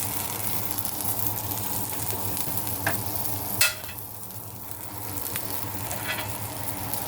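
Salmon sizzles steadily in a frying pan, a constant crackling hiss broken by a sharp scrape and clatter as the fillet is flipped, with the frying continuing afterward.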